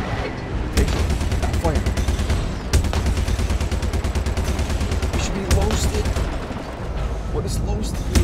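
Spaceship weapons in Star Citizen blaze away in a long, loud, dense barrage of rapid repeated shots that runs almost unbroken, with brief heavier bursts and a voice talking faintly underneath.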